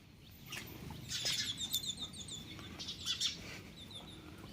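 A house sparrow at a household feeding spot chirps in a quick run of short, bright calls, with a second burst after a brief pause, faint against a low background rumble.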